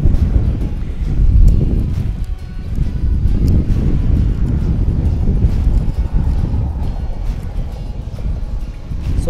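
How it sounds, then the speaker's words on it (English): Strong outdoor wind buffeting the microphone, a loud continuous low rumble with gusty surges throughout, no voices. "The only thing is, it's just too windy."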